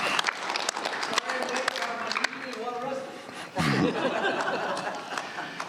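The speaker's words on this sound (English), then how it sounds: "We give him a round of applause." Audience at a community exchange meeting gives a round of applause, a brief patter of clapping mixed with chuckles and murmured voices, with talking over parts of it.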